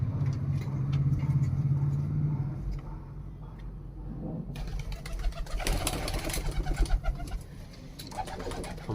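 Pigeons coo in a loft with low, throaty, repeated coos close by. Later a louder rumbling, rustling wash of noise from birds and surroundings partly covers them.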